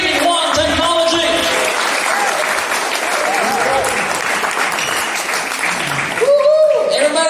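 A lively crowd at a product presentation for a frequency device applauds loudly and continuously, with cheering voices mixed in and a voice rising over the clapping near the end.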